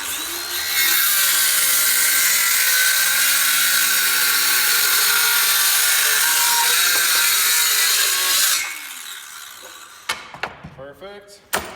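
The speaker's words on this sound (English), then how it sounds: "We'll bring our jigsaw back over." A jigsaw rips through scrap barn wood in one long, loud, steady buzzing cut lasting several seconds, then stops, followed by a few sharp knocks and clatters as pieces are handled.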